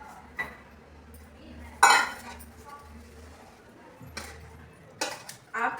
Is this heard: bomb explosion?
no